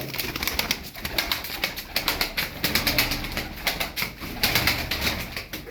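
Pigeons kept as high-level Turkish performing birds coo steadily and close by, a dense overlapping murmur with occasional flurries of flapping wings, no talk.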